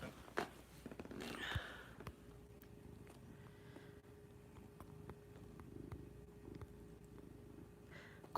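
A house cat purrs steadily up close with a soft, continuous low rumble. A few brief rustles and a short squeak break in near the start, and no one speaks.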